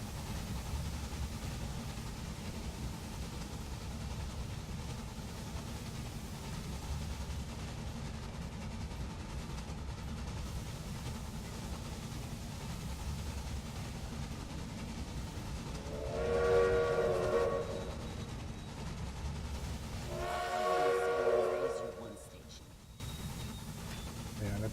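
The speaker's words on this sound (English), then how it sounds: "Ooh, cool, passing train." A passing train in the video game Railway Empire, a steady rolling rumble broken by two loud whistle blasts a few seconds apart.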